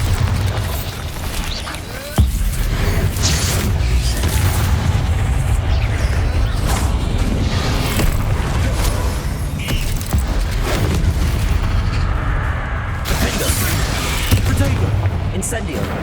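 A Bombarda spell explodes in Hogwarts Legacy with a loud, sharp boom amid a dense, continuous roar of spell blasts and battle noise, while a voice calls out over the din.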